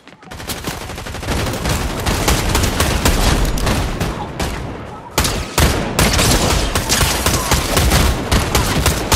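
Rapid Fortnite gunfire: loud, close bursts of automatic shots, a short pause partway through, then more steady firing, with faint voices underneath.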